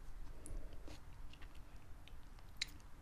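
Someone chewing food at close range, soft squishy bites with occasional crisp crunches in a quiet room, with no talking.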